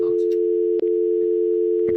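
A Cisco IP phone gives a steady, loud, unbroken dial tone after its handset is lifted, with only a faint click and a few soft handling noises over it.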